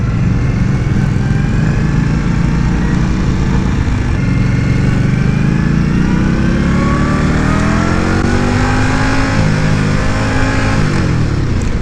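A 2018 Indian Scout motorcycle engine roars loud and close during a test ride, its pitch climbing and dropping as the rider revs and shifts, over steady wind rush.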